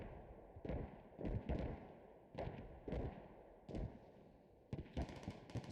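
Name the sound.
mortars and light armored vehicle shots in the video game Squad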